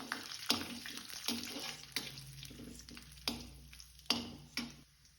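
Chopped cashews and almonds fry in a few tablespoons of ghee in a kadai, giving a steady close sizzle broken by several sharp stirring clinks against the pan.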